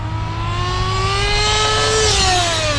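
A Kyosho Inferno NEO 3.0 RC buggy's small nitro engine runs during break-in, a loud, close, high-pitched whine held at a steady mid throttle, its pitch rising slightly and then dipping near the end.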